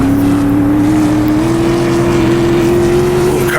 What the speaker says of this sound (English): car's sputtering a little bit